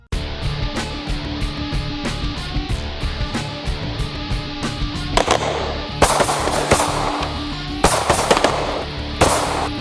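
Glock pistol gunfire at a shooting range during a concealed handgun licence course: a rapid string of loud, sharp reports that keeps a steady, overlapping rhythm, with denser bursts toward the end and no voices.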